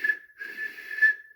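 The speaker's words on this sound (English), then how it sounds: "Whistled Percy and Emily as Molly arrived at the station" A steady, high train whistle sounds twice in quick succession, the second blast longer and clear, with nothing else around it.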